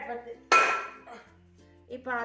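A metal pot is set down on a stove with a single sharp clank, followed by faint kitchen clatter and a few softer knocks, recorded close by.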